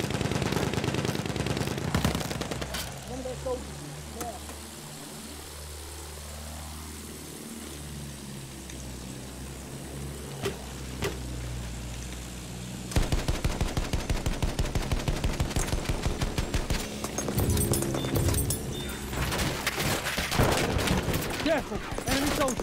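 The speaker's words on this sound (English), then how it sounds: "Why are they shooting me?" Battlefield 1 gunfire, with scattered shots early, a quieter stretch with aircraft drone, then rapid sustained machine-gun bursts near the end, loud and close, with someone talking over parts of it.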